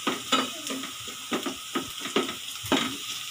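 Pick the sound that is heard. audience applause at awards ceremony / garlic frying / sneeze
garlic frying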